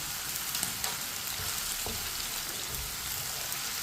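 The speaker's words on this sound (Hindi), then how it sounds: "भिंडियों को 5 मिनट के लिए फ्राई करना है।" Okra (bhindi) frying in a pan makes an even, dense sizzle throughout, with occasional soft stirring scrapes and no talking.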